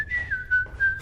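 A person whistles a short, clear tune of a few wavering high notes, close and alone, lasting about a second.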